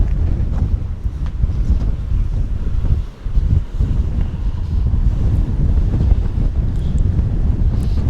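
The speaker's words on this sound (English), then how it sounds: "I know it's windy as hell and the audio is probably crap" Strong wind buffets the microphone at a lakeside RV campsite at Lake Meredith, Texas, a loud continuous low roar with gusty surges and a brief lull midway.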